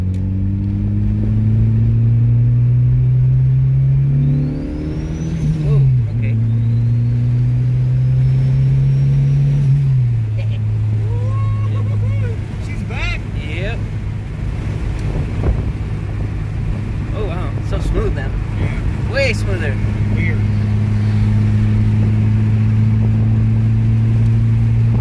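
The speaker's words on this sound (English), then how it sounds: "Take it on the freeway just to see what it feels like on the freeway." A rear-wheel-drive Mitsubishi Starion with a K-series engine swap driving on the freeway, its engine droning steadily inside the cabin and shifting pitch as it changes gear, under heavy wind noise and road rumble.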